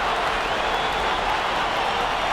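A home crowd at a basketball game applauds after a victory, steady dense clapping and crowd noise filling the arena at an even level throughout.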